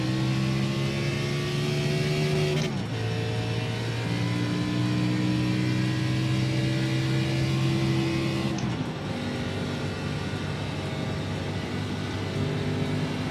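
A pace car pulls out of the pits at the Iowa racetrack, its engine holding a steady mid-pitched drone with two clear gear changes, close and continuous, no voices.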